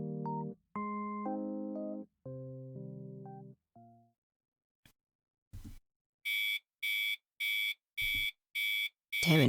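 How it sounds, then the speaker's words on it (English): An alarm clock in a visual novel game sounds in the morning as a run of about six evenly spaced electronic beeps. It comes after a stretch of tonal, voice-like sound and a brief pause. "I always set my alarm extra early so I can hit snooze a few times before getting up"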